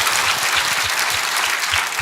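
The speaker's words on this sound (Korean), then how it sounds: "Let us give round of applause to the Lord." A church congregation at a Korean Sunday worship service bursts into loud, sustained applause, with many hands clapping in a dense, continuous roar that keeps its strength throughout.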